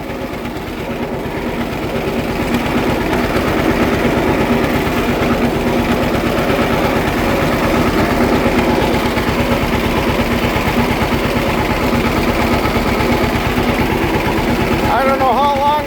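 An old Model B tractor engine that needs a tune-up runs steadily and loudly with a fast, even chugging pulse, close by and unbroken for the whole stretch.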